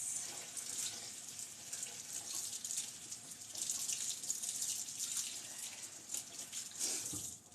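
A kitchen faucet running steadily while a countertop is washed, water splashing into the sink in a continuous close hiss with small shifts as hands move through the stream, no talking.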